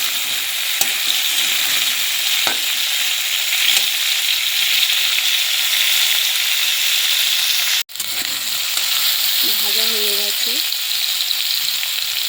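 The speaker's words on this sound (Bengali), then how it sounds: "আমগুলো একটু ভালো করে ভেজে নেবো" Raw mango pieces frying in a pan, a loud, constant sizzle of hot oil up close with a few faint clinks of stirring and a brief low-pitched sound near the end.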